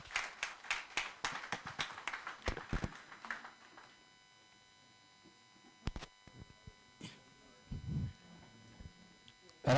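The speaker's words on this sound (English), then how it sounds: "A round of applause again." An audience at a university event claps in a short burst of applause that fades after a few seconds, followed by quiet room tone with scattered knocks and a brief voice.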